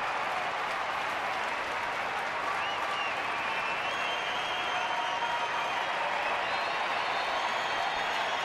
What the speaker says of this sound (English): Crowd revving it up already